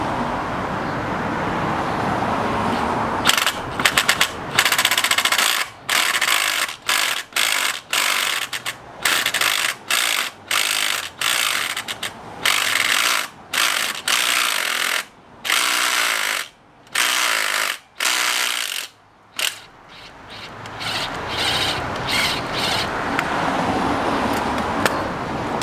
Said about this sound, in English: what I'm going to try to do is drill this hole as straight as possible